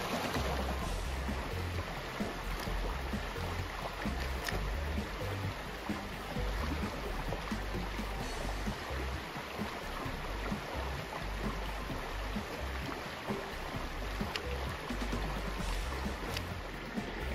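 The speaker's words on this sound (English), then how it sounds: "so we don't disrupt the creek bed edge" Creek water flowing along a bed edge in a garden, a constant dense rushing wash with no breaks, close and steady, heard alone without talk.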